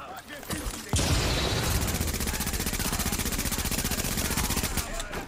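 Rapid automatic gunfire in the video game The Division, a sustained burst of fast, evenly spaced shots emptying a full magazine after an opening blast, loud and continuous with someone speaking German around it.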